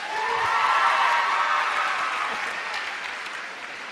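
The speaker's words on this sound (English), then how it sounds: "And give them another round of applause." An audience at a success-strategies seminar gives a round of applause, a dense burst of clapping that peaks early and then slowly tapers off.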